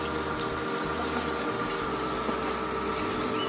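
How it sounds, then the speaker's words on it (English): Water from an aquaponics pump pours into a well, giving a steady, continuous rushing flow with a faint underlying pump hum that holds at an even level throughout. "the water flow is just much, much greater"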